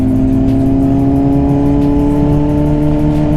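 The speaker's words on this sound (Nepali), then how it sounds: "दाइले चाहिँ मेरो बाइक चलाइराख्नु भएको छ अनि मैले चाहिँ दाइको बाइक" Honda CBR 600RR motorcycle ridden on the road, its engine a loud, steady, close drone with strong tonal hum and constant wind rush throughout.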